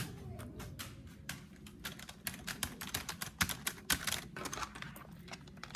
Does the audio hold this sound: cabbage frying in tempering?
no